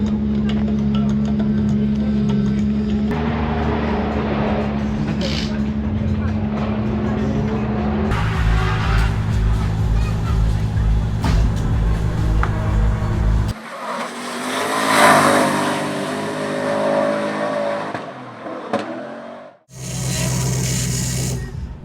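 A drift car at a season-opening drift event in Riga runs rough, its engine droning loudly at shifting revs before dropping away, then surging back in brief bursts.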